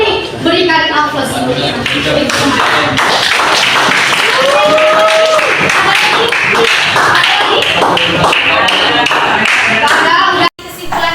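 A class gives a round of applause, clapping loud and close, mixed with voices talking and a short electronic tone.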